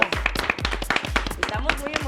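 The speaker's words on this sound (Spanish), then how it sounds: "Aplausos para Eric Bolívar." Studio audience clapping during a Mr. México pageant television episode, several sharp rhythmic claps under a voice talking over them, close and fairly loud.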